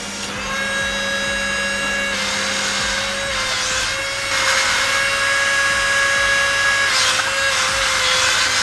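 A wall-climbing RC toy car runs across a ceiling, its motor and suction fan holding a steady, high-pitched electric whine with slight pitch shifts. It sounds close and continuous, with no talking.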